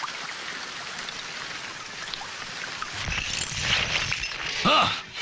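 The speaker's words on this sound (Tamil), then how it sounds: "நல்ல மழை பெய்யுதுல" Heavy rain pours down steadily as a dense, even wash across the whole clip, with louder splashes and a few low thuds coming in during the second half.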